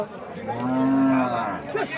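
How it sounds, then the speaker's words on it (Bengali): A Sahiwal cross cow moos once, a long low drawn-out call close by, rising and fading over about two seconds with faint background noise. "গাভিটা সাই জাতের গাভি বাছুরটা সাইহল জাতের বাছুর"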